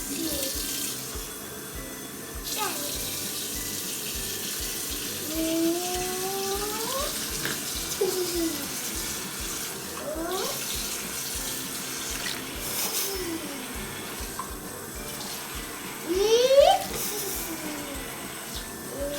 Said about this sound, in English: We're gonna fill up this container with water.